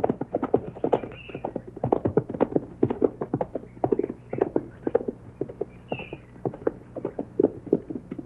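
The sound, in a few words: horses' hooves clip-clopping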